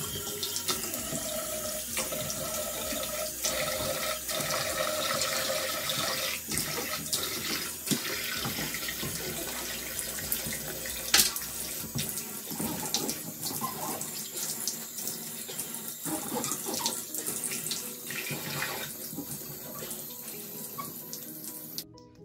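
A kitchen faucet runs steadily while a freshly cleaned tap is rinsed, a continuous close splashing rush of water with no voices for over twenty seconds.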